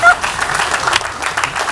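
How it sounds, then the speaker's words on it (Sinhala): A studio audience at a TikTok show claps in a brief, moderately loud burst of scattered applause that lasts under two seconds. "දෙන්න ක්ලැප් එක."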